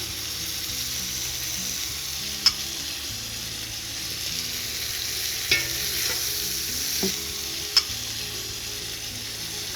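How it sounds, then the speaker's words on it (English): Garlic and onion fry alongside meat in a pan, giving a steady, close sizzle with a few sharp utensil clicks and scrapes as the pan is stirred; no one speaks. "We want to get the caramelization going out of the meat."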